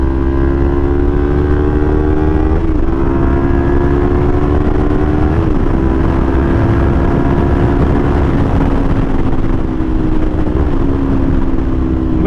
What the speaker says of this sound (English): this is the best sounding R3 I've ever heard